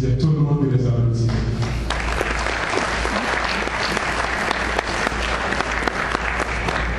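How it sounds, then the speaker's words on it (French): A graduation-ceremony audience breaks into sustained, loud applause for returning students, with a voice fading out at the start before the clapping swells and holds steady. "je dis à tout le monde de les applaudir."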